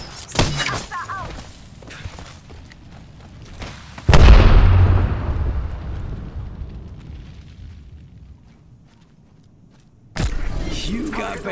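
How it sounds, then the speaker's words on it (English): A thermite grenade bursts in Apex Legends with a heavy, booming blast that rolls off into a long, fading roar, followed by a later sharp burst of game noise; scattered game sounds come before the blast. "Thermite grenade out."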